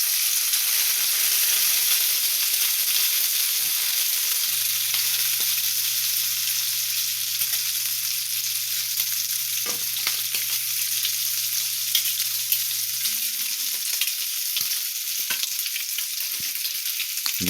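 Bacon sizzles and crackles steadily in a hot pan, a loud, constant close-up frying hiss with scattered pops and no talking.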